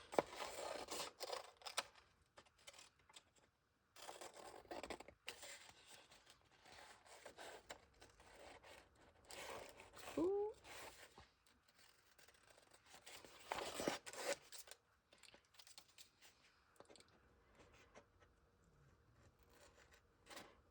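Quiet scissor snips and paper rustling come from someone cutting around a paper piece for a junk journal. The cuts are close and soft and arrive in irregular short bursts with small pauses.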